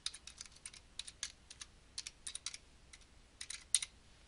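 Rapid clicking of computer keyboard keys as an email address is typed, arriving in short irregular bursts with brief pauses, close and fairly quiet, with no talking.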